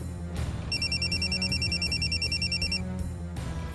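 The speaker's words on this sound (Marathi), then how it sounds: "बाबांचा फोन" A mobile phone rings in a home with a repeating electronic trill, steady and fairly loud, over low rumbling background sound and no talk.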